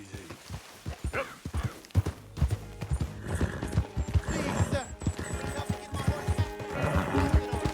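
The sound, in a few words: horse galloping and neighing in video game Red Dead Redemption II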